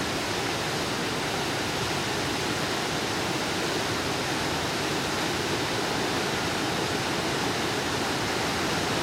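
Topcliff Weir on the River Swale, still carrying a fair amount of water in early October, a loud, steady, unbroken roar of rushing water close by, with no talking.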